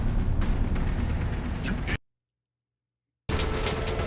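Gunfire from the Fallout TV series, a loud dense burst of shots and blasts that cuts to sudden silence, then resumes abruptly.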